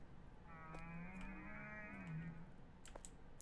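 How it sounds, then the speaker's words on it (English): A video-game cow gives one drawn-out moo, quiet and heard alone, with a few faint clicks near the end. "Did I just hear a fucking, like, cow in there?"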